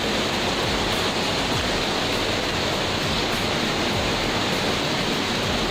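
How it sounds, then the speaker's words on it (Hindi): Rushing water of a deep mountain river pouring among big rocks near Chota Mahadev in Pachmarhi, a loud continuous roar close by with no pause and no voices over it. "बड़े बड़े पत्थर और पानी की आवाज़ आ रही होगी"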